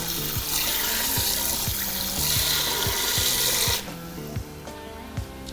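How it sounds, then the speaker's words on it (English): Water running and splashing into a saucepan at a cooking spot near a beach, a steady wet rush that stops partway through, leaving quieter clinks and faint background noise. "I'll add a little water on the saucepan."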